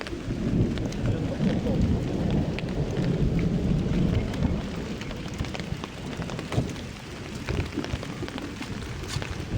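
A thunderstorm rolls on with heavy rain and low rumbling thunder after strong lightning, a broad steady wash of noise that swells and eases slightly without pause.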